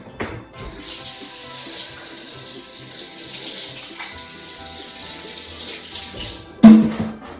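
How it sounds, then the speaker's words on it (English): Water runs steadily from a sink tap as hands are washed, a continuous broadband splash lasting several seconds with a sharper splash or clatter near the end. "Okay, really quickly, I'm going to wash my hands."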